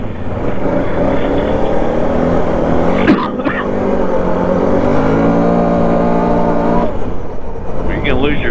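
An ATV engine, one of a Honda 700, Can-Am 850 or Polaris 850, drones loudly and close as it is ridden around outdoors, holding a steady rev with shifting pitch and a brief dip midway.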